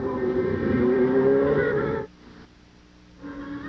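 Racing car engines drone loudly at Suzuka during the 1990 Japanese Grand Prix, a sustained high whine that cuts off abruptly and then returns more faintly.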